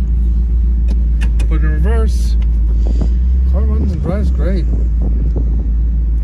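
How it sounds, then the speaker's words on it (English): A 1956 Buick Roadmaster drives along with a loud, steady low engine rumble beneath it, while people talk inside the car over the running engine. "Car runs and drives great."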